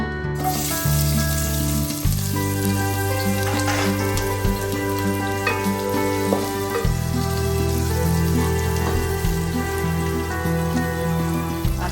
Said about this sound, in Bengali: তেল দিয়ে দিলাম তেলটা গরম হয়েছে পেঁয়াজ কষিটা দিয়ে দিব